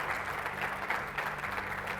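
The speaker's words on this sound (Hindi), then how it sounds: "मैं चाहता हूं एक बार मोदी जी के सम्मान में तालियां बजा दी जाए।" An audience applauding in honour of Narendra Modi, a steady wash of clapping held at an even level for the whole stretch, with no talk over it.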